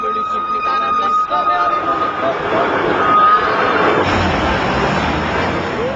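A tram running on rails with a steady rolling rumble and a brief tonal whine, heard under someone speaking.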